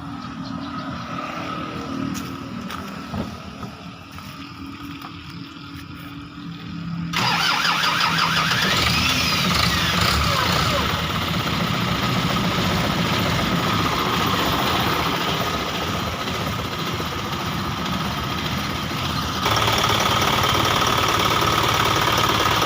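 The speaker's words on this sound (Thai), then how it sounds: "เดี๋ยวจะสตาร์ทเครื่องให้ฟังครับ ว่าว่าเครื่องยนต์อยู่สภาพกี่เปอร์เซ็นต์นะครับ" After a quiet stretch, a car engine starts abruptly and runs at a steady, loud idle, with a slight rise in engine noise later on.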